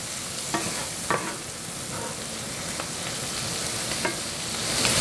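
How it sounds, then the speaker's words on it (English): Creole seasoning stirred around a hot frying pan, with a steady sizzle and a few sharp scraping strokes of the spoon spaced through the few seconds, close and alone. "And I'm just going to stir that around."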